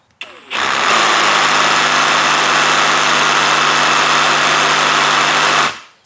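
A cordless reciprocating saw runs unloaded at about 3000 rpm, a loud steady buzzing whine that starts abruptly, holds evenly for about five seconds, then winds down and stops.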